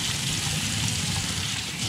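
Hot tap water runs steadily over a food processor part in a kitchen sink, a continuous close rush and splash with no speech for the whole stretch.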